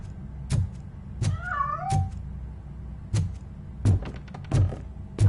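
A cat in the video game Robocop Rogue City gives a short, wavering meow amid a series of heavy thumps and clunks that recur at irregular intervals, all fairly close and moderately loud.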